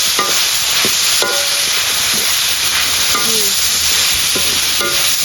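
Loud, steady sizzle of spicy wild boar pad cha being stir-fried in a pan, with a constant hiss broken by repeated sharp scrapes and clatters of the spatula.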